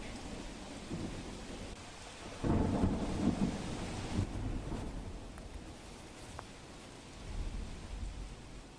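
Steady heavy rain hisses throughout while a loud rumble of thunder rolls through the middle and fades, with another softer rumble near the end.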